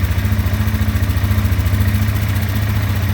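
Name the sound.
2025 Sportsman 450 HO ATV engine creeping at low RPM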